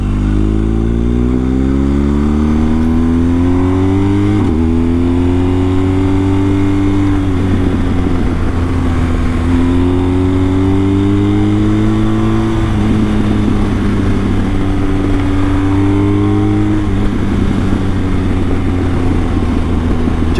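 BMW R1250GS boxer-twin motorcycle fitted with a BT-Moto stage 1 exhaust, idling and revving in a deep, loud rumble, its pitch rising and falling through several blips across the stretch with no talking.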